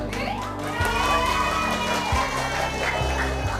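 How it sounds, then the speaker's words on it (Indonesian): Schoolgirls shouting and cheering in excited celebration, a dense, loud crowd of young voices layered over steady music and a voice. "Keharuan dan kegembiraan bercampur dengan teriakan para siswi."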